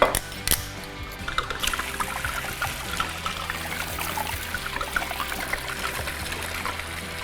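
Tequila pours in a continuous close trickle into a purple cocktail, a steady liquid stream running from start to finish after a brief clink.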